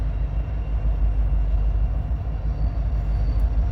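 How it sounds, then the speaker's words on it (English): An eastbound loaded coal train pulls out of Hobson Yard in Lincoln, Nebraska, a loud, steady, deep rumble of heavy freight cars rolling continuously with no voices. "this is an eastbound loaded coal drag coming out of the yard"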